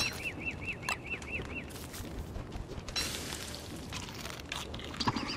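In the game Don't Starve, a bird is killed: a quick run of high squawking chirps comes first, then a few soft thumps and rustles, all fairly quiet.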